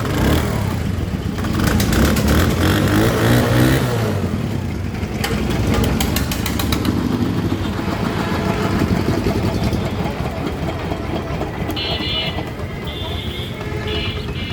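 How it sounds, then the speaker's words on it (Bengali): Used Honda CD80 motorcycle idling close by, a steady low engine hum with light mechanical clatter running throughout at an even level. "গাড়ি কিন্তু এখন স্টার্টে আছে, কিন্তু আপনারা বুঝতে পারছেন না।"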